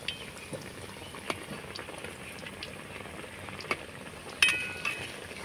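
Potato and semolina snack frying in hot oil, a steady soft bubbling sizzle with a few brief clinks and scrapes of a utensil against the pan, close by and fairly quiet, no one talking.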